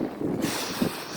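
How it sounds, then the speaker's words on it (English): Wind gusts across a beach by the ocean, a steady broadband rush with low buffeting thumps where it hits the microphone, loud and close throughout with no other sounds. "Lots of air, lots of wind down here."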